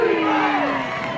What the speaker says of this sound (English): Windsor crowd chanting for their defense